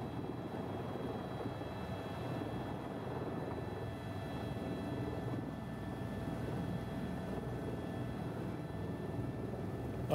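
Tour helicopter landing in Las Vegas, a steady, loud rotor and engine drone holding evenly throughout with no voices.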